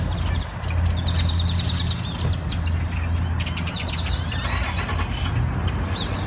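Flock of birds chirping in trees in a supermarket parking lot, a dense steady twittering close by, mixed with the constant rumble of passing cars and traffic throughout.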